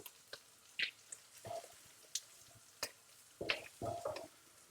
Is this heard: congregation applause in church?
no